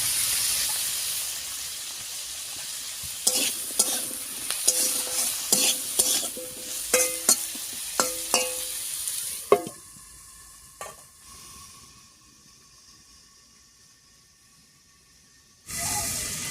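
Potatoes being stirred in hot oil in a pan while cooking, a soft sizzle with a series of scraping stirring knocks, then quieter frying hiss and a brief loud burst of sizzle at the end.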